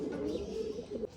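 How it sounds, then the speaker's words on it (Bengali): Two male Lambadi pigeons coo softly at close range in low, rolling murmurs, faint and brief. "এই দুটো পায়রা লাম্বাডি দেখুন, দুটোই নর আছে"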